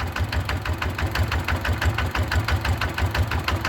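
A six-wheeled truck engine idles on a narrow road, a steady low rumble with a rapid regular knocking pulse that stays close and loud throughout, with no talking.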